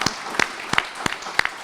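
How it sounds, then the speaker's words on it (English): An audience at a public library reception claps, a short burst of moderate applause with a few distinct, close hand claps ringing out over the softer crowd clapping. "I think we should clap again for Ann Gobi"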